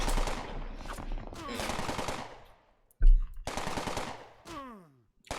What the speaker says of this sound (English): Yeah, you might want to turn around and shoot that one, Steven.